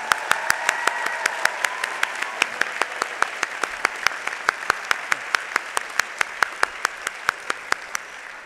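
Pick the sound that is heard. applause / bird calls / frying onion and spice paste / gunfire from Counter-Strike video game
applause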